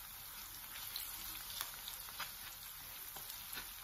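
Vegetable cubes being stirred in a hot pan while cooking bitter melon with red kidney beans, giving a steady soft sizzle and frying hiss with faint scraping stir sounds throughout, moderately quiet and close.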